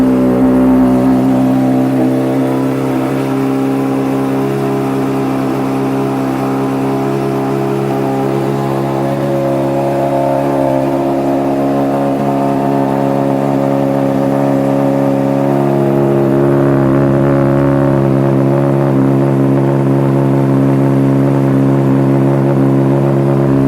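A used 2013 Honda CBR600RR sport motorcycle's inline engine runs loudly up close, holding a steady high-idle hum with slight rises and dips in pitch throughout.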